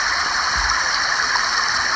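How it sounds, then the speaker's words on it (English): Steady, close rush of water flowing over rocks in a garden stream bed, a continuous bright gurgling wash with no breaks or voices. "he'd allow water to course more freely, with some rocks in the stream bed to create gurgling or crashing sounds"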